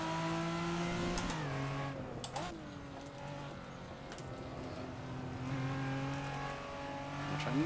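Race car engine in a racing video game, a steady droning whine that dips and climbs as the understeering car works through corners, with faint tire and contact noises and no talk.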